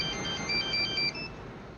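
A phone ringtone plays a repeating electronic melody of short bright beeps in a steady rhythm, close and fairly loud, then cuts off before the end with no voices.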